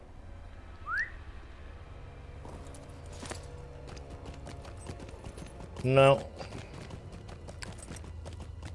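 Goat mount hooves clip-clop softly in the LOTRO fantasy game as the mount moves, a faint steady patter under a quiet voice, with a short whistle-like chirp and a louder jingling burst partway through.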